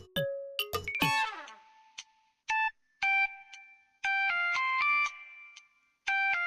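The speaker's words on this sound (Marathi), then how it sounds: "आलापच्या बाबांचाच फोन आहे." Phone ringtone plays as a bright electronic melody of chiming tones in short repeated bursts with brief gaps between them, clear and fairly close in a quiet room.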